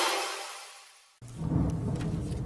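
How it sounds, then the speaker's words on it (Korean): Thunder rumbles outside a recording studio during rain; a long rolling rumble fades out, then a second loud, deep crash breaks in and keeps rumbling to the end. "밖에 비 오면서 천둥번개 소리가 지금 녹음실을 진동하고 있습니다"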